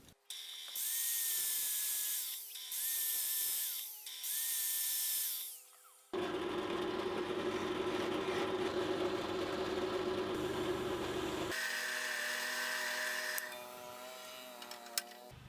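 A power tool rounds off a stainless steel bolt, first in three short high whining bursts, then in a steady, loud grinding drone that shifts pitch partway through, with no talking.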